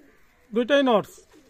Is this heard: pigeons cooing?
yes